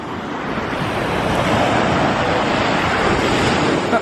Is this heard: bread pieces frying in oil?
no